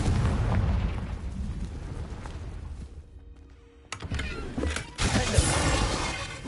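A Confringo spell explosion bursts in Hogwarts Legacy, a loud booming blast with crackling debris after a brief lull, followed by a second heavy impact, close and full.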